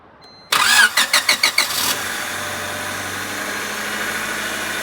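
A Honda Civic engine cranks in a quick series of starter pulses, catches and settles into a steady idle after a clutch install, loud and close with no talk.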